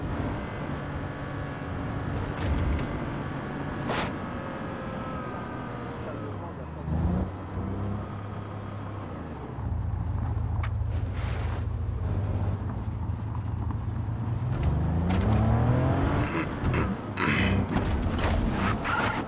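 A limousine engine drones and revs in Just Cause 3, a low steady rumble that rises and strains in the second half, with scattered game noises and talk over it.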